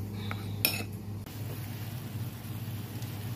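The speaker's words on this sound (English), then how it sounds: "Mix that in really well, the salt and the flour." Salt and flour are stirred together in a bowl, a spoon clinking sharply against its side, then scraping and shuffling softly at close range.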